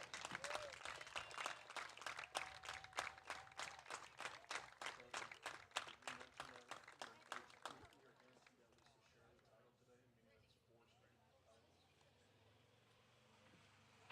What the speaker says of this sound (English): Let's take an opportunity for our group applause for all of our 8 baseball seniors.